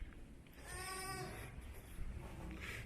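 A ewe bleats once near her lambs on a farm in a drawn-out, wavering call, fairly close, followed by quieter rustling and a fainter second bleat.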